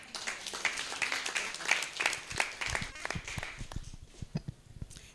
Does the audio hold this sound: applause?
yes